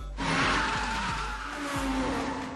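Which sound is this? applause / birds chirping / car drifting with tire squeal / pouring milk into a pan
car drifting with tire squeal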